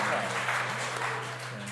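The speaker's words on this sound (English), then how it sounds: "I'm going to big round of applause for Jack Saddleback." Steady conference audience applause filling the space, a dense wash of clapping hands at moderate volume, holding evenly before tapering slightly at the end.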